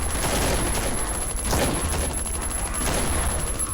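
Rapid gunfire from the video game Last Island of Survival, a dense fusillade of overlapping shots and bursts running continuously at high level with a few sharper cracks standing out.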